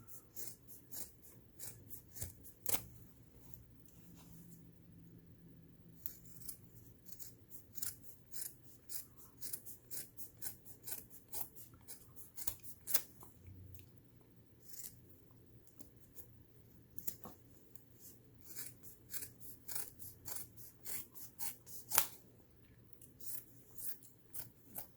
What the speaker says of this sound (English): start and cut about 1/4 of an inch away from the stitch line all the way around